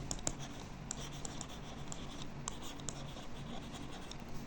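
Pen scratching on paper while a maths answer is written out, a soft, continuous scribbling with small taps and strokes, close but quiet, with no speech.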